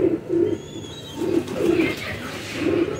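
A pigeon coos nearby in repeated low, soft throaty phrases with short pauses between them, moderately loud over faint background noise.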